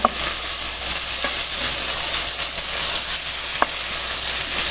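Eggplant pieces sizzle steadily in a hot frying pan, a constant crackling hiss broken by a couple of sharp clicks, close and without any talk.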